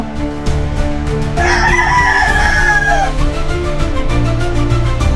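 Chickens in a backyard pen, where a chick has newly hatched: a rooster crows loudly and close through a long call, with clucking and general farmyard hubbub around it.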